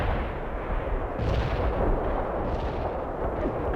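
Artillery strikes in the combat video game World in Conflict, a dense, continuous barrage of booming blasts and rumbling impacts that swells and recedes, loud throughout with no voices.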